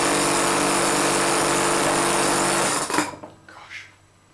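An air compressor converted to run as a vacuum pump, working against a vacuum tank, drones loudly and steadily with a harsh mechanical buzz, then shuts off abruptly near the end, leaving a few faint knocks and rustles.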